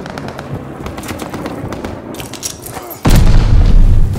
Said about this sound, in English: Russian stun grenade